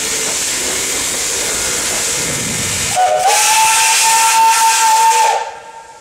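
A vintage steam locomotive at the Kharkiv passenger station hisses loudly with escaping steam, then sounds a sustained, steady whistle for about two seconds before the blast cuts off, with no voices.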